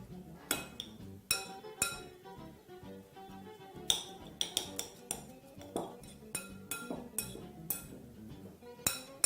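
Utensils clink and scrape against a bowl while a simple salad is tossed, giving a close, irregular run of sharp clatters and taps with short pauses between strokes.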